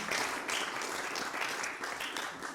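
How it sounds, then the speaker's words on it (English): Conference audience applauding warmly, a continuous dense patter of many hands, moderately distant and steady throughout. "Please give them a warm applause"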